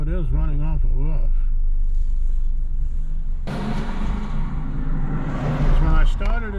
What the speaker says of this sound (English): Still moving on its own power, although it is running awful rough.